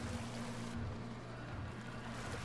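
Rushing river current from the horror video game Outlast, a loud continuous watery roar with a steady low drone underneath, no voices.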